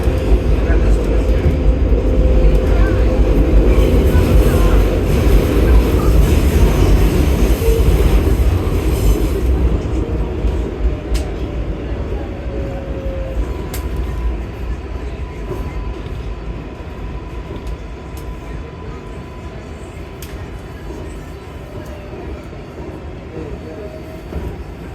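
Queens-bound 7 local subway train at the Times Square station, a loud, rumbling roar with squealing wheels that gradually eases and fades to a quieter rolling rattle.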